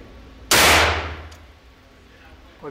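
A single loud Colt Python revolver shot at a shooting range cracks sharply and decays over about a second. A faint sound follows near the end.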